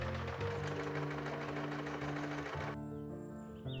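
Sewing machine top stitching seam allowances on a blue dress, a fast even whirring chatter running close and steady for nearly three seconds before stopping, leaving a faint hum.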